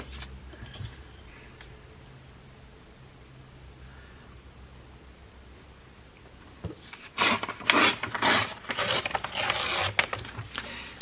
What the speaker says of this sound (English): So I'm going to need to tear off this little piece here.